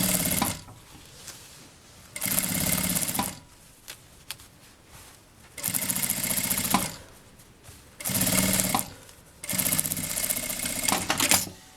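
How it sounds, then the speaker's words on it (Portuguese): A sewing machine stitches a bag lining onto the outer material, running in four loud bursts of rapid mechanical whirring separated by quiet pauses with small handling clicks. "eu passo uma costura aqui pra segurar esse forro aqui no material."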